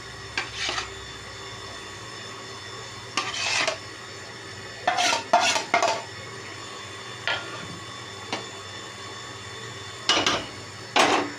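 Prawns being stirred into a cooking pot for prawn pulao, with scattered bursts of metal spoon scraping and clanking against the pot, spaced out between quieter pauses.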